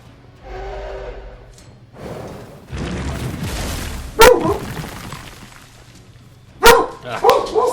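Pet dogs bark at home, with loud, sharp, close-up barks in two clusters over a low rumble of game sound, after a muffled voice early on.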